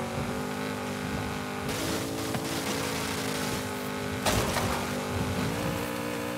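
A Porsche in Forza Horizon 5, driven on a Logitech G920 wheel, runs with a steady engine drone that rises and shifts in pitch, with brief surges of louder revving throughout.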